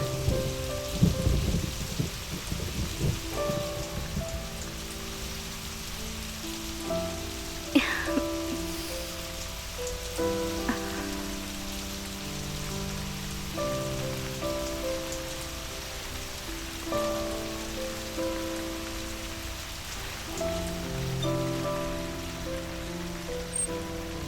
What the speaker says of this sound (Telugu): హే వర్షం,